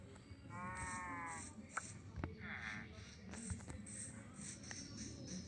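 Sheep bleat repeatedly in a Minecraft-style video game, quiet wavering bleats over soft shuffling and pattering game sounds, with a few faint voice-like noises in the background.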